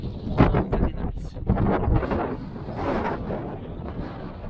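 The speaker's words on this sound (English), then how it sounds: "it's getting windy." Wind gusting across snowy Dartmoor near Okehampton in West Devon during heavy snow, a broad steady rush buffeting the microphone with rumbling surges, sustained throughout.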